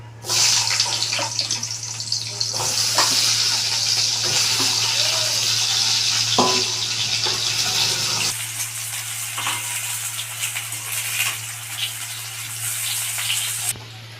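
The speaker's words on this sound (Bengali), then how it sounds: "এবার মাছ ভাজা তেলটাতে আমি আলুগুলো ভেজে নেব।" Long potato strips fry in oil already used for frying fish, a loud, steady, hissing sizzle that drops a little in intensity partway through and carries on evenly.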